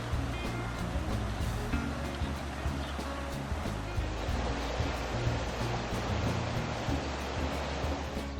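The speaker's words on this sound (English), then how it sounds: "But right now we're just enjoying the river." Flowing river water heard outdoors as a continuous, loud rushing wash with a low rumble, steady throughout.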